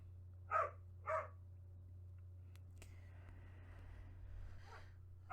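A dog in another room gives two quick muffled barks, then falls quiet under a steady low hum, with a faint click and a soft shuffle later and nobody talking.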